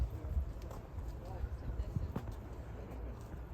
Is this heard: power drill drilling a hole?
no